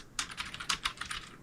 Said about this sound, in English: I'm typing in a phrase